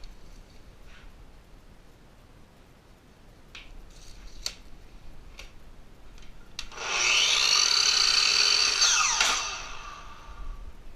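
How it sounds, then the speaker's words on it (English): A miter saw slices through a wooden board during hive-box building: a few soft clicks and handling taps, then a loud whining cut of about two and a half seconds that rises and cuts off, heard up close without speech. "I'm going to use my miter saw."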